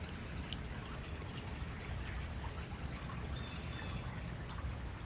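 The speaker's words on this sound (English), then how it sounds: "I hear water running." Water runs steadily in a flooded basement, a continuous rushing, trickling wash that holds at an even level for the whole stretch, with no voices over it.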